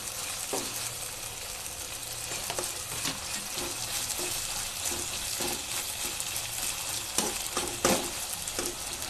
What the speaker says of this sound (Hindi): टमाटर प्याज फ्राई होने के बाद हम डालेंगे धनिया, धनिया पत्ते को डालकर अच्छे से मिक्स कीजिए